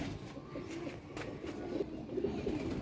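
Kasuri pigeons coo softly nearby, with repeated low, rolling calls that overlap over a faint background hum.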